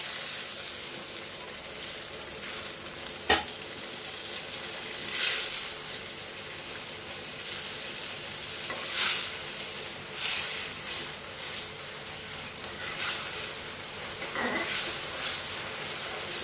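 Water poured into fried, cooked-down spice paste for hilsa curry hisses and sizzles steadily in the pan, with several brief louder steam bursts over the continuous fizz.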